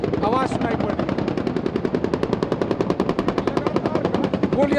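Rapid, sustained machine-gun fire at a Taiwan live military drill with an Apache helicopter, loud, close and continuous, with dense repeated bursts throughout.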